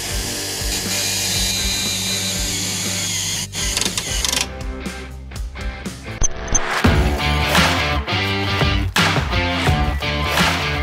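REVOLOK cargo strap tensioner clutches click and ratchet on a tightened load, a dense run of sharp mechanical clicks and rattles, close and fairly loud, with no talking.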